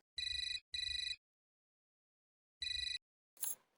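An electronic phone ringtone sounds in three short bursts, two close together then a pause before the third, followed by a brief rustle.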